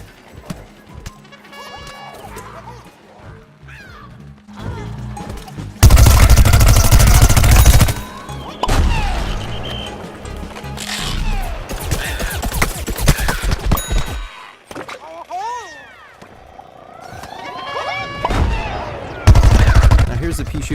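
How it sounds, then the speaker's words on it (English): Rapid bursts of cartoon gunfire from the pea shooter's Gatling attack in Plants vs Zombies Garden Warfare, loud and repeated in several dense volleys, with impact crashes and quieter game effects between them. "Here's the pea shooter using the Gatling attack again."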